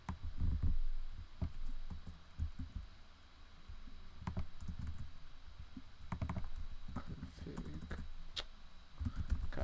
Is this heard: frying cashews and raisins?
no